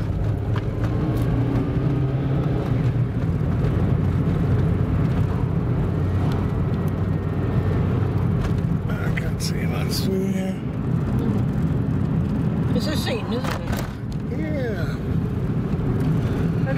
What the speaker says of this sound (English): Now there's your car pulling away in top gear.